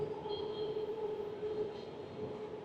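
A Bangkok metro train passes with a steady rumbling hum and a faint high whine, continuous and fairly near, with no talking.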